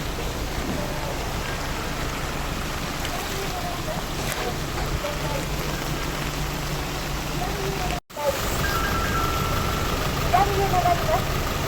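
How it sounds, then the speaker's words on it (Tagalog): Steady, dense roar of heavy rain during a flood fills the whole stretch, with a low engine-like rumble underneath and faint voices now and then, briefly cut once. "Tuloy-tuloy kasi yung ulan."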